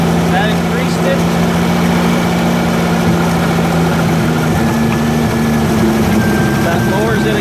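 A carbureted engine runs at a fast, high idle as its choke is adjusted, with a steady droning hum, fairly close and loud, with faint background noise.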